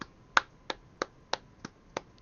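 A series of six sharp, isolated hand claps spaced roughly a third of a second apart, close and crisp against a quiet room, with no talk over them.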